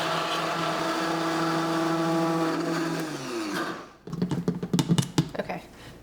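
A blender whirs steadily while mixing chocolate silk pie ingredients, then cuts out abruptly. A burst of clattering and tapping on a counter follows the sudden stop.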